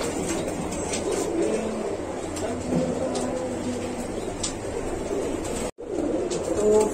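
Soft, low pigeon coos repeat at a pigeon market under a steady hum of traffic and background noise, with a brief dropout near the end.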